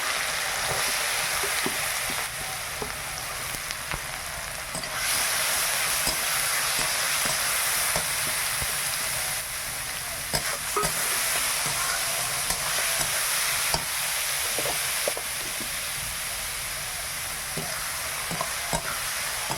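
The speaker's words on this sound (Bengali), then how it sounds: "গোটা জিরে, লঙ্কা, তেজপাতা দিয়েছি, একটু ভেজে নেই" Whole cumin seeds, dried chilies and bay leaves crackle in hot oil in a pan, a dense, even sizzle with occasional stirring clicks, close and sustained, with no one speaking.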